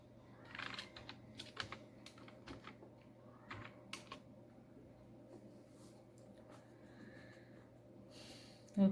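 Soft, irregular keystrokes on a computer keyboard while a MySQL query is typed, with scattered clicks and short bursts over a low steady hum, fairly quiet and close.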